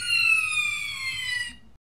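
A police car siren wails loudly in a steady, gliding tone for about a second and a half, then cuts off abruptly.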